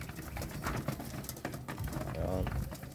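Pigeons eat large corn kernels, soft cooing mixed with pecking and shuffling, while a person talks over the birds throughout.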